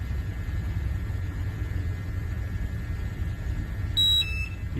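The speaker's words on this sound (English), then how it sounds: "You can hear the alarm going off." A low steady rumble with a faint tone, then a gas detector's sharp electronic alarm beep starts near the end, loud and piercing, signalling a hazardous atmosphere.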